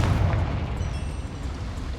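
A Confringo fire spell blasts in Hogwarts Legacy, a game played on Xbox Series X, with a dense, sustained booming explosion and low rumble filling the whole moment.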